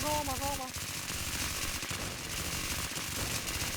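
Rapid automatic gunfire in a shooter video game, a dense continuous rattle of shots that fills the whole stretch, loud and steady, with game effects and faint voices mixed in.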